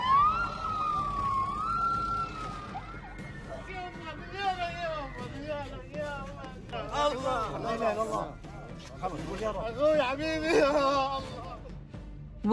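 A wailing emergency siren in Gaza rises and falls repeatedly, steady and fairly loud, under an ongoing babble of voices and a background rumble.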